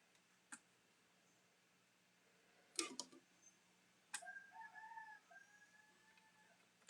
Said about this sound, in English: Oh, crazy rooster.